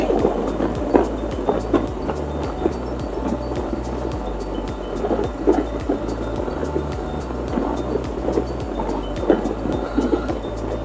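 A metro train runs near the Behala metro car shed, wheels beating a regular clickety-clack rhythm over the rails beneath a steady rumble, with no voices.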